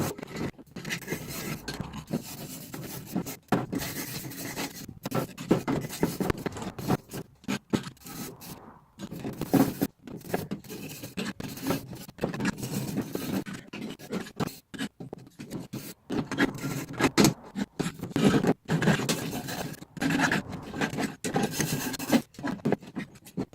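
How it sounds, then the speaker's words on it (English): A steel wire brush scrubs flaky rust off the bodywork of a Ford Connect van, making continuous harsh, rapid scratching strokes that stay loud and close throughout with only brief pauses and no talking. "Gonna probably have to get in and steel wire brush some of that out of the way."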